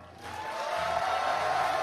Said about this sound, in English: Clap if you like Hunter.